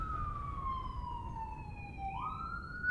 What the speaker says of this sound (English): I'm just waiting for the siren to stop because I don't want it distracting me.